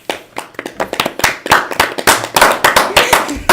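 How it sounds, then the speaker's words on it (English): A small group of podcast hosts and a guest at a high-school podcast start clap unevenly in a loose, awkward patter of close, sharp hand claps for a few seconds, with no talk over it. "That was such an awkward clap to start."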